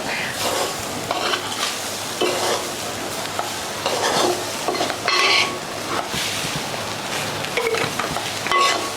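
Spices fry in a pan after lemon juice has been added for a chicken oats shorba. A steady sizzle runs under repeated stirring and scraping of a utensil against the pan, with no talking.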